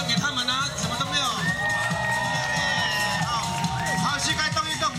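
A concert audience at a live show cheers loudly and continuously, with shouts, whoops and whistling voices layered over a dense crowd roar.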